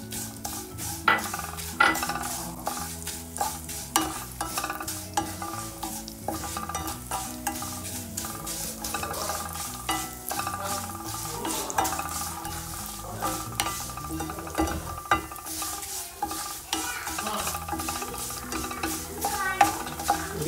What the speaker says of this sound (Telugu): కొంచెం ఆయిల్ వేసుకున్నాను సేమియా వేగించుకుంటాను